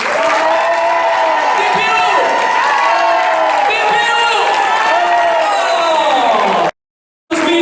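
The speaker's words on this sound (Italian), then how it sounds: "Posso sentire un bel applauso con l'urlo?" Concert audience at a restaurant solo show applauding and cheering, a dense, continuous wash of clapping and shouts that fills the room loudly until an abrupt cutoff near the end, with a singer's voice calling over it.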